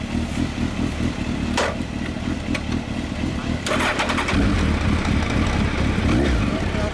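A 2000 Suzuki GSX1300R Hayabusa motorcycle with a WR'S aftermarket exhaust idles with a deep, rough exhaust rumble, then revs louder and stays growling; a voice talks briefly amid it.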